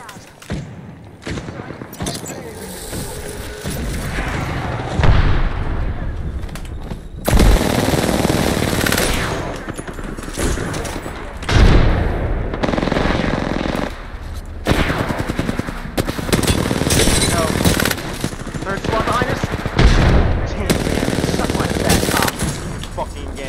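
Video game gunfire with rapid machine-gun bursts and loud repeated shots in several dense volleys, mixed with thuds and a player talking over the action.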